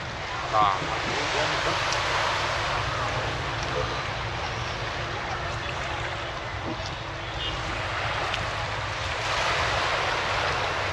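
Sea waves wash steadily along the Alexandria shore as a continuous broad rush of surf with wind noise. Faint talk and street-food sounds sit underneath.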